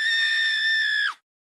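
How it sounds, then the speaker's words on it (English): A person lets out a loud, sustained scream right in someone's face, one continuous shrill cry lasting about a second before cutting off abruptly into silence. "you have to scream in my face"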